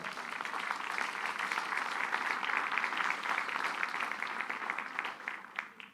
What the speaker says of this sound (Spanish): Denle un fuerte aplauso a Jesús que está aquí en esta mañana.